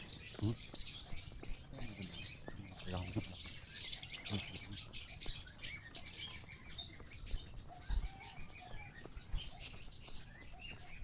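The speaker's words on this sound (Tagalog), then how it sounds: "Ang dami ibon." Many birds chirp and tweet around Sampaloc Lake during a jog, a busy chorus of close and distant calls running continuously with voices talking intermittently.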